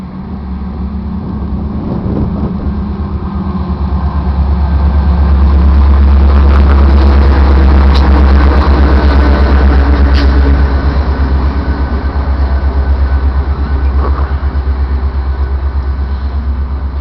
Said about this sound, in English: I'm making video of a METRA at the Roselle station